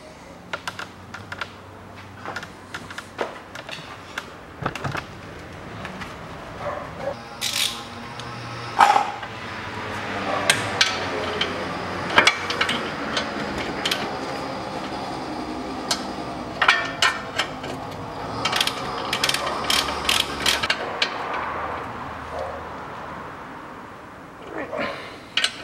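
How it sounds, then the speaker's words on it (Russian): A wrench tightens the drive axle nut on a Citroen C-Crosser 2.4, making a series of irregular metallic clicks and ratcheting taps that grow busier midway, with faint workshop background. "Затягиваем гайку привода."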